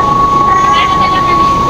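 Commuter train pulling into Dadar station in Mumbai, a steady rumbling rail noise with a continuous tonal hum and faint squeal, loud and close throughout.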